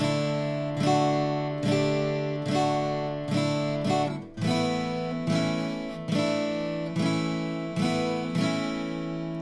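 Strummed acoustic guitar chords ring out in a steady repeating pattern, each strum bright and full, shifting between suspended shapes, with no talking.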